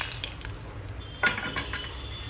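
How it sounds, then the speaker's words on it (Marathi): Barnyard millet (bhagar) tipped into hot oil in a pan, a soft steady sizzle with a louder burst of scraping and stirring as the grains hit, close and alone without talk. "तेल टाकले आहे। आता आपण ह्याच्यामध्ये भगर ओतूया"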